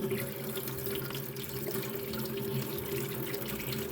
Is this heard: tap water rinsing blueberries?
yes